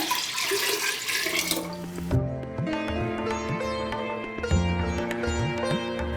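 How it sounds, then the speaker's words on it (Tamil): Water gushes noisily into a pot for making venn pongal for about two seconds, then stops and gives way to music. "பானை ஃபுல்லாகிற வரைக்கும் தண்ணி ஊற்றிடுங்க."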